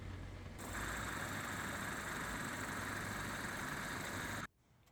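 Engine of a Scania Super 420P-XT truck running at steady idle during an oil and filter service, a loud continuous drone that starts abruptly, holds even for several seconds, then cuts off suddenly to near quiet.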